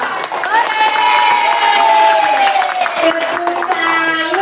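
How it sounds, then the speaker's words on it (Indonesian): Audience at a talk on gender in Nias culture cheers and applauds steadily, a loud crowd roar with whistling and shouts throughout. "Kita berikan aplaus yang meriah untuk Pak"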